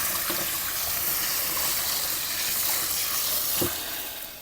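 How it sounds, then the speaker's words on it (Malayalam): Water pours steadily over orchid roots during repotting with a hissing, splashing rush, close by, with no voices. "പഴയ റൂട്ട്സൊക്കെ നന്നായിട്ട് തന്നെ വെള്ളം ഒഴിച്ച് കഴുകി വാഷ് ചെയ്തെടുക്കണം"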